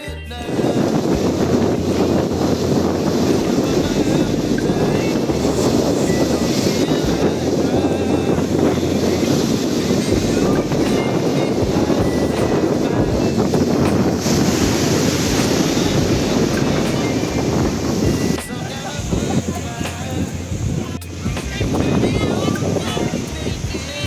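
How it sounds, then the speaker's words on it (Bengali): Sea waves roll onto Digha beach, a steady loud wash of surf with strong wind buffeting the microphone throughout, a brief dip in the roar near the end. "চোখ ধাঁধানো দীঘার সমুদ্র সৈকতের সামনে দাঁড়িয়ে"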